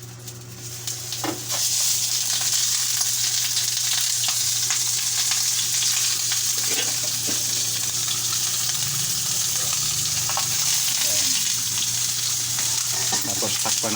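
Milkfish sizzling in a pan on a bed of lemongrass leaves, a steady, loud frying hiss that runs almost continuously after a brief quieter start.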